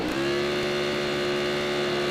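Open superbike engines hold a steady, loud high-revving drone at the start line of an AFM road race, a continuous sustained howl with no talking.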